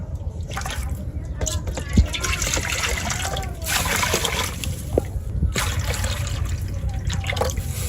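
Lentils tip into water in a village kitchen for a crab and duck dish, giving steady splashing and trickling with small drips, close and fairly loud, while a voice talks over it.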